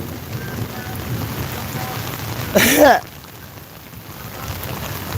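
Rain patters steadily outdoors at a church rally in Virginia Beach, a soft continuous hiss with one brief louder splash or gust near the middle.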